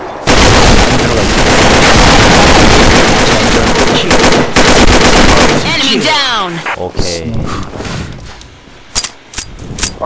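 Loud, rapid machine gun fire from the video game Combat Arms rattles continuously, then breaks into scattered bursts and single shots, with talking mixed in.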